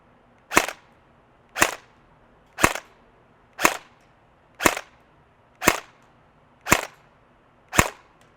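A KWA Ronin 47 airsoft AEG fires 0.20 g BBs on an 11.1 V battery: eight sharp, loud single cracks spaced evenly about a second apart, each with a quick decay and near-silence between.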